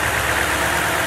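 A truck engine runs at raised revs during an alternator charging test, a steady mid-pitched drone held evenly and close for a brief moment with no speech.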